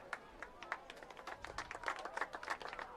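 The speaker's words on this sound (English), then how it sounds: "A nice golf claps for Lila." A basketball crowd gives light, scattered golf claps as a substitute player enters, with uneven individual claps rising and thinning over a few seconds, moderately distant in a gym.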